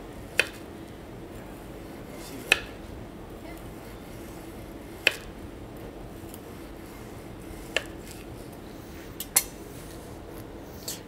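A knife cuts frozen veal into very fine slices for carpaccio, and faint, sharp clicks of the blade meeting the board come every two seconds or so over a quiet kitchen background.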